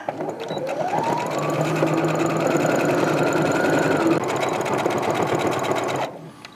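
A sewing machine stitches a skirt's opening closed, its motor running in a steady continuous whir for about six seconds before stopping, close and clear with no talking.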